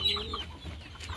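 Desi chickens on a poultry farm give soft, scattered clucks close by over low background noise, with no voices.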